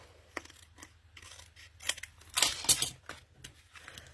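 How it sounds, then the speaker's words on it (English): Scissors trim a piece of card at close range, giving a series of crisp snips and light rustles that build to a few louder cuts, all quiet with no talking. "And then I'm going to trim that off as well."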